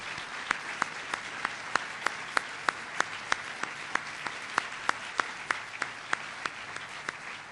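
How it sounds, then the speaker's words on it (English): Audience at a presidential event applauding business leaders, with steady, dense clapping and sharp regular claps standing out near the front, continuing evenly throughout. "Let's give them a big round of applause."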